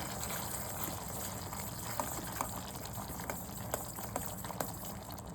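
Pulihora karam paste simmers in a pan, giving a steady soft bubbling and hiss with scattered small pops, quiet and close, with no talking.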